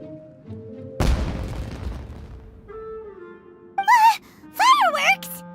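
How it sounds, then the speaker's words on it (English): A firework bursts in the video game Genshin Impact with one sharp boom that decays over a couple of seconds, followed by short, startled character vocalizations. "Was that an explosion? It sounded like fireworks."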